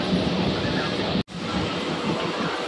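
Inside a Ranaghat local train running at night, a loud steady rumble and rattle of the carriage continues throughout, broken once by a brief silent gap.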